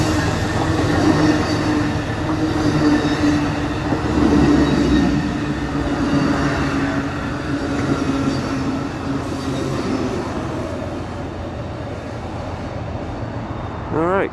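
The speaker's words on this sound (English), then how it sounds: "Alright, Coast Starlight 14." Amtrak's Coast Starlight train number 14 rolls past close by in a loud, continuous rumble of wheels and cars, with occasional squeals from the rails, and it keeps going throughout.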